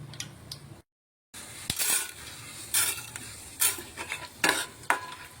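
Chana dal dropped into hot oil for tamarind pulihora, with sharp bursts of sizzling and spoon scraping against the pan, coming in several loud clustered spurts after a brief silent gap.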